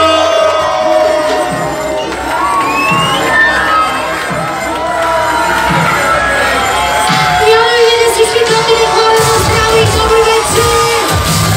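A club audience in Sofia cheers, whoops and claps for a singer taking the stage, a loud sustained crowd roar with high shouts and music tones mixed in.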